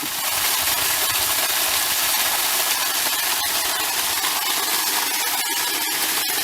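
The gasoline engine of a 2-inch centrifugal water pump runs dry at high revs, a loud continuous buzzing roar that holds steady throughout, close by.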